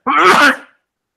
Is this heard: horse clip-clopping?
no